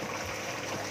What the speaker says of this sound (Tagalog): Ayan yung shower.